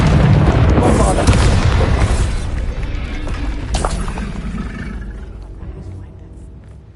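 A loud, booming explosion spell going off in a Harry Potter–style video game on PS5: a heavy rumbling blast that rolls on and slowly fades over several seconds.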